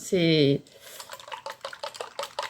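A mixture is stirred in a bowl with a utensil, producing a quick series of soft clinking and scraping strokes, close and faint, just after a brief voiced sound.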